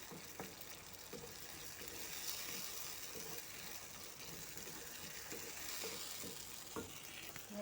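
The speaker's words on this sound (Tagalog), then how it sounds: "Tapos ihalo natin yung kamatis." Tomatoes being stirred into a frying pan, a soft continuous sizzle with repeated scraping stirs in an irregular rhythm, fairly faint and with no talking.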